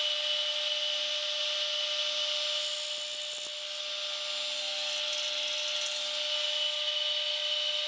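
A saw fitted with a combination blade cuts tenons in wood, giving a steady, even, high-pitched whine that holds close and loud for the whole stretch with no talk.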